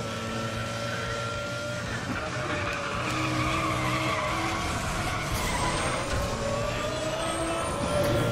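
Racing cars skid and slide in the video game Need for Speed The Run: a continuous, fairly loud wash of engine roar and tire noise runs steadily throughout, with no talking.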